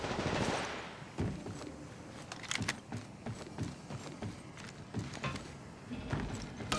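Gunfire in Apex Legends sounds as scattered sharp shots and short bursts at moderate distance over a busy background of game noise, fairly quiet overall.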